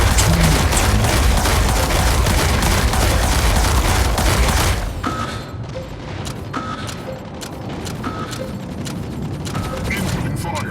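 Incoming gunfire and explosions in the mech combat video game Mech Arena 2 form a loud, dense, continuous barrage. It thins after about five seconds into scattered sharp shots and impacts.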